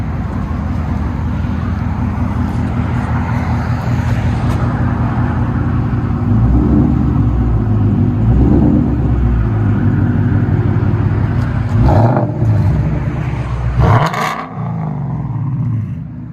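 Car idling loudly through an aftermarket exhaust, then a couple of sharp throttle blips rising into deep revving roars and falling back to a rumbling idle, close and heavy, with no talk.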